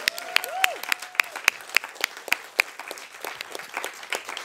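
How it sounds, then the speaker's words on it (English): A small group at a community gathering claps for themselves in sparse, uneven hand claps, with distinct individual slaps rather than a dense roar, and a faint whistle-like tone appears briefly early on. "Now just clap hands for yourselves."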